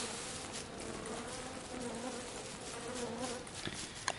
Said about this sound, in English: What noise is that? Bees. Bees in the trap.